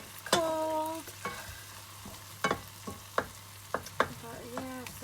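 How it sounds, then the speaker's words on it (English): Tomatoes being stirred and mashed in a simmering curry pot, with scraping utensil strokes against the pot at irregular intervals, some ringing faintly, over a low steady bubbling hum; no talking. "you want all the tomatoes to be mashed up so that it will thicken up the curry slash soup"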